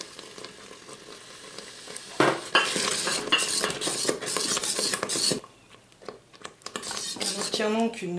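Cheese, half mimolette and half edam, stirred into a creamy mac and cheese in a Cookeo electric pot: a steady metallic scraping of a utensil against the pot, busy and close, with a soft sizzle and a quieter stretch near the end.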